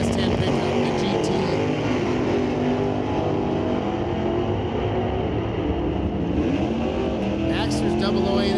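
Loud, steady engine roar fills a drag strip as a GTL Chevrolet Monte Carlo and a GT S10 pickup make a qualifying run at the NHRA Canadian Sportsnationals, a dense continuous drone with a voice talking over it.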